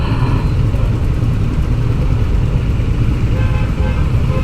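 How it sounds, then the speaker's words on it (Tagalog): Heavy traffic rumbles loud and close along Quirino Highway, with a dense, steady engine drone and car horns tooting through it. "Grabe ang traffic."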